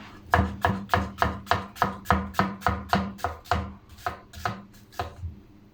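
An onion chopped with a knife on a board, about fourteen crisp, evenly spaced chops close up that slow and soften toward the end.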